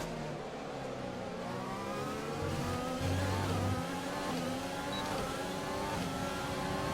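Formula 1 race cars roar past one after another in the racing game F1 2020, their high engines whining and shifting pitch as they pass close by, loud and continuous with no talk.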